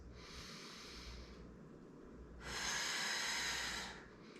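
Slow, deep breathing during a core and mobility exercise focused on rib cage expansion and pelvic floor lift, heard as a long soft breath, a pause, then a stronger, louder exhale, close and alone.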